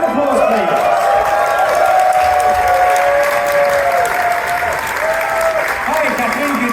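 An audience at the ConFuzzled 2023 furry convention opening ceremony applauds as a guest illustrator comes out, a loud, dense wash of clapping with some cheering that holds steady throughout.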